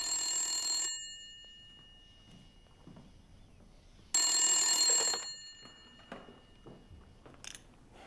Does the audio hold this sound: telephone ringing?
yes